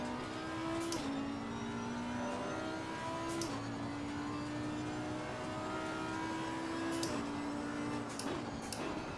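An Audi R8 engine in an online racing video game drones with a steady tone that steps down at each gearshift, joined by faint ticking clicks, with no talking.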